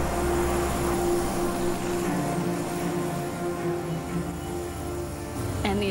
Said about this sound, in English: And the adventure began as the plane touched down.